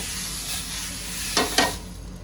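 Sharp hissing sizzle over a steady frying crackle, with two quick bursts of steam as a wet cloth is wiped across a hot griddle.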